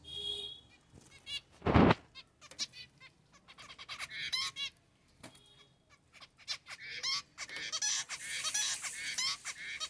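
Pet finches startled by a phone light flutter and chirp in fright. A loud flurry of flapping comes early, followed by repeated bursts of wingbeats and sharp little calls that rise and fall, close by and irregular.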